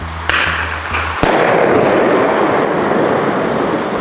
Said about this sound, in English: I'm gonna fire this bear banger.